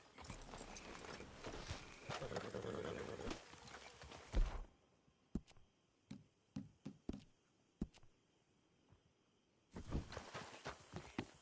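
Horse hooves clip-clop in Red Dead Redemption 2: a dense, loud stretch of movement, then sparse, separate footfalls close by, and a busier burst at the end. No talking.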